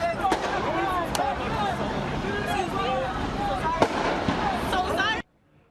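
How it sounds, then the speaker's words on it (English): Loud explosions and sharp bangs burst repeatedly amid a noisy crowd during night-time street unrest and looting in Philadelphia, with voices murmuring and shouting throughout before the sound cuts off abruptly. "You could hear there the sound of loud explosions."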